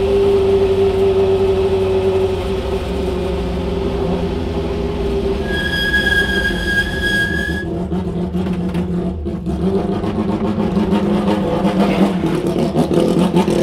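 A Rondeau M382 Group C race car engine hums and revs steadily on track with a whirring mechanical tone, a brief high whine rising midway through.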